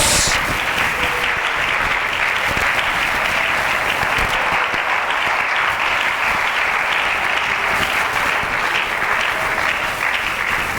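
A church congregation at a youth-week service applauds loudly and steadily, dense continuous clapping filling the room without a break for about eleven seconds.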